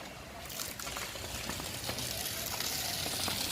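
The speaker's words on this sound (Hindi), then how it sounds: "ये पानी निकलना स्टार्ट हो गया है।" Water gushing from a fire hose during a fire drill, with the pump running. A loud, continuous rushing spray fills the whole stretch after a brief quieter start.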